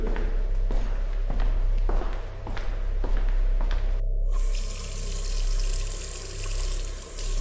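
Water runs from a tap as a man washes his hands and face, starting with a few scattered thumps and splashes, then becoming a steady loud hissing stream that swells and fades slightly.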